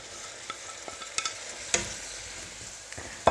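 Beef fries with chopped peppers and onion in a hot pan, a steady sizzle broken by scattered clicks and scrapes as the mixture is stirred.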